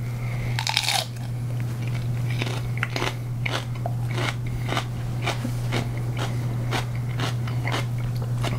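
Repeated crisp bites and crunchy chewing of a raw Sugar Rush sweet pepper, sharp crackling snaps spaced about every half second, close-up and loud over a steady low hum, with no speech.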